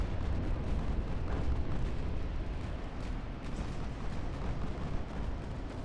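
Naval artillery fire from battleships in Ultimate Admiral: Dreadnoughts, a dense, continuous rumble of heavy booms and bursts rolling together at steady loudness with no clear gaps.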